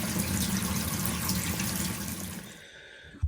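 Hot water runs from a tap fed by a Viessmann Vitodens 100 boiler whose blocked plate heat exchanger has just been cleared, a close, steady rushing splash that fades near the end.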